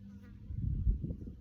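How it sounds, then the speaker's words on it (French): An indoor fly buzzes close by in a short, low, steady hum lasting just over a second. "Il y a une mouche qui me dérange."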